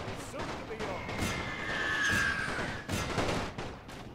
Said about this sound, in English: Continue to focus the artillery over here. Let's go ahead and barrage.